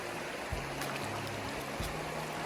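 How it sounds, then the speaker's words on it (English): A steady rush of water at a river crossing on a trail in Oregon, continuous and fairly close, with a few dull knocks and thumps over the flow. "river crossing"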